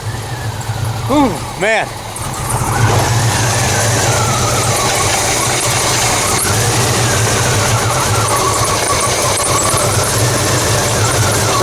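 A broken-down vehicle engine, repaired roadside in rural Kentucky, cranks and catches with a couple of quick rising revs, then settles into a steady, close idle that runs to the end, with a man's brief exclamations over it.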